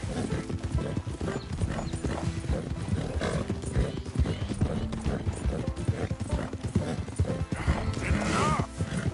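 Hooves clop steadily with occasional whinny-like calls from a donkey in the video game Red Dead Redemption 2, a busy, continuous mix running throughout at fairly even loudness.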